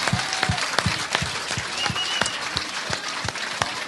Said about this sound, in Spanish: Un aplaudiment per Amado Jaén, sisplau, ben fort, que arribi al cel.